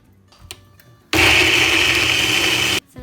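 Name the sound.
blender blending coconut with evaporated milk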